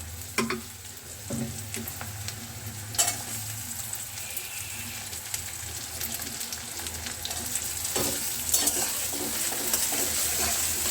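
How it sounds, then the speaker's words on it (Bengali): Chopped tomatoes frying with browned onions in a pan for egg tarka give a steady, close sizzle broken by scraping stirs and spoon clatter, with no talking. "টমেটোটা পেঁয়াজের সঙ্গে খুব ভালো করে আমি ভেজে নেব।"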